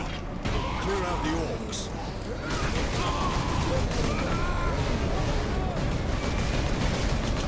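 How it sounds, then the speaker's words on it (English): A grenade blast in the video game Warhammer 40K: Space Marine, a loud rumbling explosion that swells after a brief lull and rolls on amid continuous gunfire and battle noise, with a voice shouting over it. "Grenade!"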